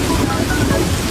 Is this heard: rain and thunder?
yes